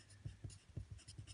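Pen writing out a math solution, a quick run of soft scratchy strokes in an uneven rhythm, faint and close, with no talk.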